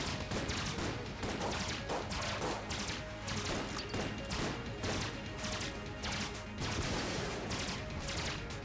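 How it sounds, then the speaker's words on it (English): Flak bullets in Enter the Gungeon blast apart incoming missiles as a dense, continuous barrage of crackling shots and small bursts, loud and unbroken for the full stretch. "You just shoot and then all the random ass flak shots will just break them"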